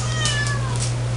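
A kitten meows once, a short, high, fairly close cry over a steady low hum.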